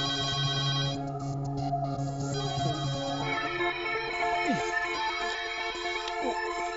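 A telephone ringtone chimes repeatedly against a busy film-scene background, with other sounds and faint voices mixed in.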